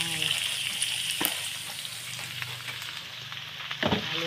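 Winged beans (sigarilyas) frying in a hot pan with a steady broadband sizzle, a couple of sharp stirring clatters near the start and end, close and fairly loud.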